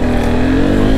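A Royal Enfield Bullet motorcycle revs hard and steadily for a wheelie, its engine loud and close throughout with a continuous throaty roar.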